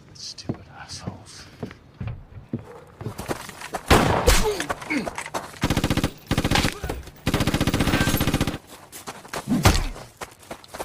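Gunfire from a shootout in the film Brawl in Cell Block 99, sharp single shots giving way to sustained rapid automatic bursts, loud and close, with brief voices and scuffling between volleys.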